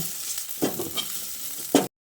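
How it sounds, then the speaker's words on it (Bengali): A fried boiled potato is lifted out of a sizzling kadai: steady hiss of hot oil with a scrape midway and a sharp clatter just before it stops. "এবার এই আলুটাকে তুলে নিচ্ছি, তুলে একটা পাত্রের মধ্যে রেখে দিচ্ছি"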